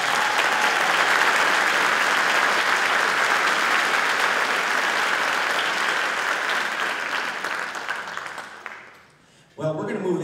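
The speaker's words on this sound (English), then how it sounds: "Another round of applause for Melissa" An audience at a concert gives a sustained round of applause, a dense, even wash of clapping that holds steady for most of the stretch, then fades away toward the end, followed by a brief unrelated sound.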